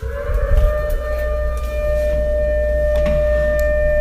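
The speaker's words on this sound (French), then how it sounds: "c'est comme la sirène là qu'on entend dans sa ville tous les premiers mercredis du mois" A civil defense siren in Korea wails steadily and loudly, a sustained droning tone with a low rumble beneath, no voices.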